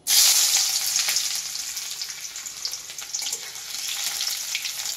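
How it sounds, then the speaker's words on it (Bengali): Onions sizzle in hot oil in a pan for a chingri, jhinga and chicken curry, a loud, steady crackling fry that bursts in right at the start and keeps up alone throughout. "তেল গরম হয়ে গেছে, এবার আমি পেঁয়াজ দিছি"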